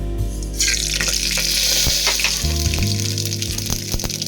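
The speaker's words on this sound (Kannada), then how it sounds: "ಈಗ ಎಣ್ಣೆ ಕಾದಿದೆ, ಅದಕ್ಕೆ ಚೂರು ಸಾಸಿವೆ" Mustard seeds dropped into hot oil in a pot set up a loud, dense sizzle with sharp crackles and pops that grows busier partway through, heard up close with no speech.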